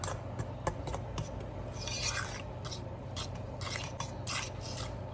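A fork scrapes and taps against a bowl while ingredients are mixed for chicken and dumplings, giving a steady, close run of soft scraping strokes and light clinks over a low kitchen hum.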